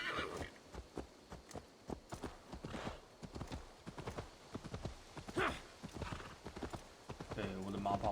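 Rapid clip-clop of horse hooves at a gallop in Assassin's Creed Valhalla, with an occasional whinny, under steady talking and game sounds.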